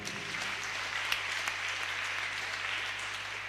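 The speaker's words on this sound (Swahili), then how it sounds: "tupigie walimu wao makofi mazuri" Steady applause from a church congregation at PCEA Kamiti Parish during a Kikuyu service, many hands clapping for the teachers, soft and somewhat distant with a few sharper claps standing out.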